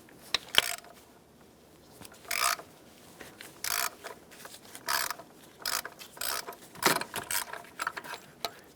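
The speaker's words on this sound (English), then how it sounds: "Take your tool with an extension, stick it in here, and unthread the sensor." A 27mm socket on a ratchet with an extension unthreads the oil pressure sensor on a Dodge Grand Caravan 3.6L, giving irregular bursts of close, quiet ratcheting clicks separated by short pauses.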